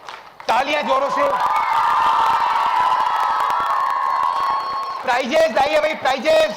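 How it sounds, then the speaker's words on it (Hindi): An audience at a Dev Anand quiz event in Jaipur breaks into loud, sustained applause and cheering for about four seconds, bracketed by someone speaking over a microphone before and after. "तालियां जोरों से।"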